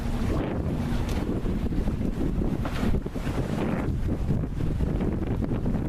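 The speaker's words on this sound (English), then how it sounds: "making about 5 knots with 10 knots of wind, and having a nice sail" A sailboat moving through choppy lake water in about ten knots of wind sounds like a steady rush of water and wind buffeting the microphone, with sloshing waves against the hull and no talking.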